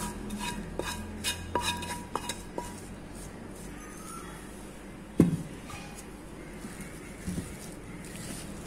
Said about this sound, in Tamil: உருளைக்கிழங்கு கூட மசாலா எல்லாம் சேர்ற மாதிரி நம்ம நல்லா கிண்டி விட்டுடலாம்